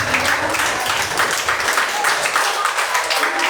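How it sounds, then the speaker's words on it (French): A church crowd at a youth praise and worship evening applauds the musicians, a dense, steady wash of clapping that holds for a few seconds with no break. "Applaudissez les musiciens."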